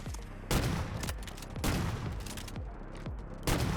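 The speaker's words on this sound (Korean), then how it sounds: "제가 상대방의 움직임을 예측해서 저격총을 쏘고 있는데요" Sniper rifle shots in Delta Force Mobile ring out as four sharp, booming cracks spaced about a second apart, each followed by a rolling echo and tail, with no talking over them.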